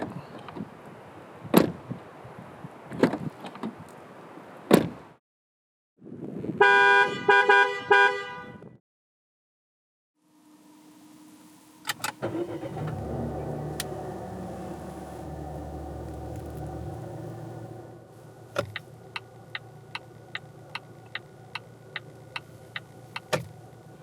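A 2020 Volvo XC90 T6 or T8 produces a few sharp clicks and chimes, a brief tonal alert, then a low engine hum with cabin noise and a run of rhythmic ticking like an indicator, all near and without talk.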